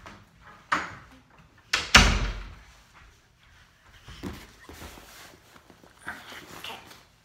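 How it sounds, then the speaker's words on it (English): A bedroom door is pushed shut with one loud thud near the middle, preceded by a softer knock and followed by quiet shuffling and handling noises. "Let me close my door."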